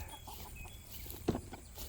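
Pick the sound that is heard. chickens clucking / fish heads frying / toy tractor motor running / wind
chickens clucking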